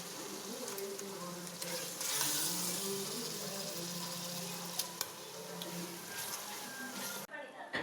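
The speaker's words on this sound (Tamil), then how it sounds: "2 கரண்டி மிளகாத்தூள் ஆட் பண்ணி நல்லா கிண்டிக்கலாம்." Onions and chili powder sauté in a pan for a mutton gravy, giving a steady sizzle with scraping from stirring. A voice talks over the frying throughout, and the sound drops away sharply just before the end.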